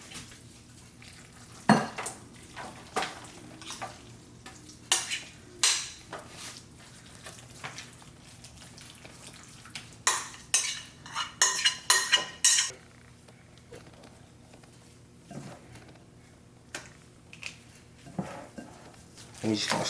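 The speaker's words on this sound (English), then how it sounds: "And we're just gonna stir this up in there like this." A spoon stirs shrimp mac and cheese in a buttered pan, giving a string of sharp metallic scrapes and clanks against the pan, irregular and close, clustered in bursts with quieter gaps and a faint sizzle underneath.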